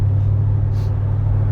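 A 1964 Chevy C10 truck with a supercharged LSA engine drives along, its steady low rumble droning close and loud throughout, with a faint hiss rising briefly in the middle.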